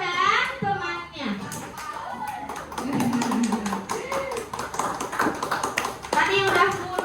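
Children in a classroom clap in scattered bursts of sharp taps, with children and an adult talking over and between the claps.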